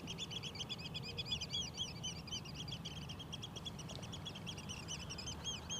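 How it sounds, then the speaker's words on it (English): Small birds chirping in quick repeated bursts near a waterfront on the Westerschelde at sunset, faint and steady over a low background rumble of wind and water. "Lots of little bird noises."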